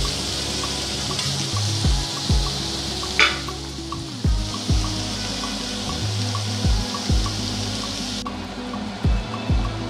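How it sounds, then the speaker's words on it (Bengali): Paneer cubes frying in oil in a pan for a vegetarian ghugni, giving a steady sizzle with repeated clinks and stirring knocks, loud and close with no talking. "পনিরগুলো হালকা করে ভেজে নেব।"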